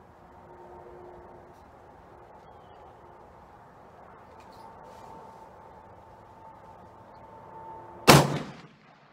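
A single sharp, very loud rifle shot from a Ruger American Go Wild chambered in 300 Win Mag and fitted with a muzzle brake, cracking out near the end after a quiet outdoor stretch and ringing off briefly.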